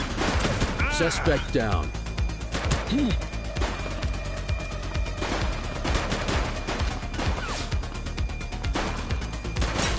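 Police-shooter game gunfire: rapid shots and bursts crackle continuously and loudly, mixed with shouting voices talking over the firefight.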